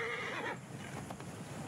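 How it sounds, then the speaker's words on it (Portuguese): A horse in the video game Assassin's Creed Origins whinnies loudly in a long, shrill, wavering call that cuts off abruptly, followed by soft background noise with faint thumps. "Então, cavalo."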